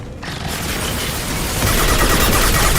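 Turret gunfire from the video game Mass Effect 2 roars as a dense, continuous burst of rapid automatic shots, loud and unbroken across the clip.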